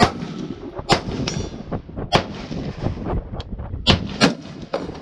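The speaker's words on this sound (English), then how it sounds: "Okay, let me shoot another one." Repeated rifle gunshots from a Geissele URGI 14.5-inch upper fired at a range, about six sharp loud reports at irregular intervals over a rumbling, echoing background.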